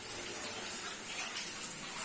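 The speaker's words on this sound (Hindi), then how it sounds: "अब इसमें हम पानी डालेंगे" Water pours steadily into a yogurt mixture in a Pakistani village kitchen, a soft continuous gushing splash, fairly faint and unbroken, with no talk.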